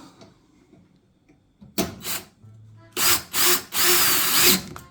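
A power drill drives a screw in from the top of an Electrolux Perfectcare 800 dryer during a drum roller replacement, in several short close bursts separated by pauses, with a handled-part clunk between.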